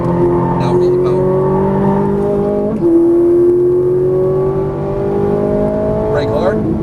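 A Ferrari 458 Italia on a racetrack, its engine revving up through the gears with rising tonal pitch and a shift-like dip midway, loud and close, with a voice talking over it.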